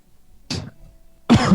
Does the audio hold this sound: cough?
yes